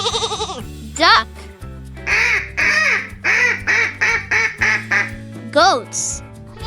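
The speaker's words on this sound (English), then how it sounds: "Duck." A duck quacks in a quick run of short, nasal calls over upbeat background music, with a few brief sound effects at the edges.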